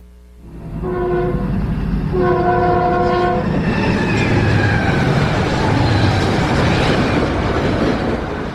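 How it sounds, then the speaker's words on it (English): Fast-moving train sounding its horn in a long two-tone blast as it rushes past, with a steady loud rumble and clatter of wheels on rails building and holding throughout. "This train is really moving fast."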